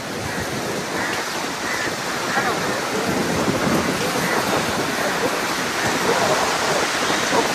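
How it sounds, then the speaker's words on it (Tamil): Storm-driven sea waves crash at Keerimalai on the Jaffna coast, a loud, continuous, close roar of surf and spray that swells slightly partway through and has no clear breaks. "அலை இந்த வேகத்தை காட்டுறேன் பாருங்க"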